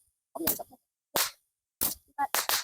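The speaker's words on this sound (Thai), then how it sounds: "โอ้โหนี่คือพลุนะคะ" Fireworks pop at a lantern festival for the end of Buddhist Lent, sharp bursts coming in irregular clusters with silent gaps between them, moderately loud and close.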